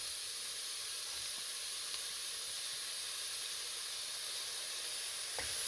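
Onions with green chillies sauté in a pan, giving a steady, even hiss of frying that runs unbroken, with a small clatter near the end.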